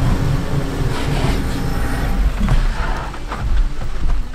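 A 2020 Mazda CX-30 or 2021 Kia Seltos SUV engine revs hard under heavy throttle on an off-road climb, a loud, steady rumbling drone that swells and dips with bursts of wheel and chassis noise.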